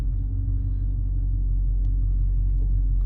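A 2022 Dodge Challenger pulls out of an alley, its engine giving a steady, loud low rumble that holds evenly throughout with no talking.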